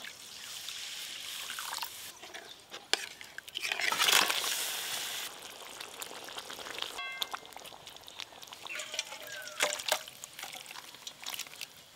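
Water is poured into a pan of fish curry being made with chopped tomato and salt, a splashing, trickling pour with clinks and dribbles close by.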